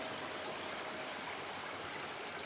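A stream runs through the village of Lavacolla in Spain, a steady, even rush of flowing water heard up close and alone, with no breaks or voices.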